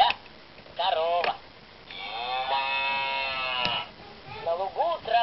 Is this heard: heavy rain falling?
no